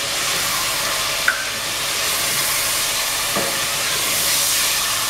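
Meat frying in a pan with garlic-ginger paste while cooking chana daal, a steady loud sizzling hiss with a couple of small pops.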